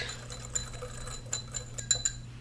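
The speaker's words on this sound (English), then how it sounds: "We're going to blend this together with a whisk." A whisk stirs paprika and salt in a bowl, giving light, irregular clinks and taps against the sides, close and fairly quiet over a steady low hum.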